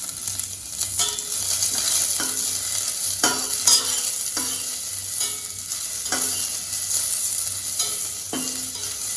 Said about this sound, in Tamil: இதை வந்து நம்ம லைட்டாக வதக்கிடலாம்